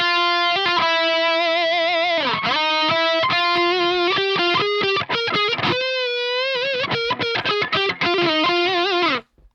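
Lead amp tone on electric guitar, played dry with no effects: a heavily distorted lead line of sustained notes, bends and quick runs, loud and close, ending abruptly.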